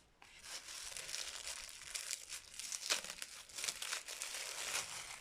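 A large greeting card is unwrapped from tight, careful packaging, with steady close crinkling of plastic or paper and a few sharper tearing bursts over about five seconds, and no voices.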